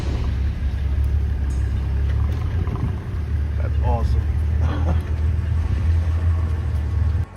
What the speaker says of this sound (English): The driver backs the car up instantly as the lion starts to charge at them.